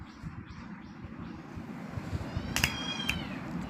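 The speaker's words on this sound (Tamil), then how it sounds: "சோம்பேறி பிடிச்ச பூனை எந்தில" A domestic cat gives a couple of short meows, each a brief separate call. They sit over steady low background rumble and some wind-like noise.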